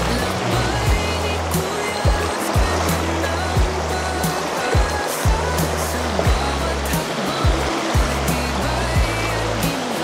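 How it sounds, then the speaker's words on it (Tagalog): A river stream on the trail to Tibag Waterfalls rushes steadily and fairly close, a continuous broadband wash of flowing water with low rumbling underneath that holds an even level throughout. "Ito yung ikalawang ilog na madadaanan natin papunta ng Tibag Waterfalls."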